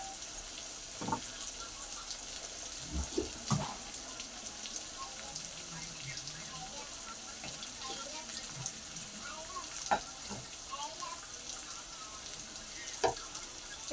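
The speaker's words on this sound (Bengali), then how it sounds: "একটু মশলার কৌটোটাও একটু ধুয়ে দিয়ে দিচ্ছি" A kitchen tap runs water steadily while a spice container is rinsed, forming a faint, continuous hiss with a few soft clinks and knocks scattered through it.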